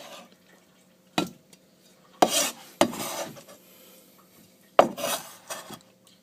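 Guacamole ingredients are scooped into a large bowl, several scraping, clinking knocks against the bowl in irregular bursts, close and fairly quiet between strokes.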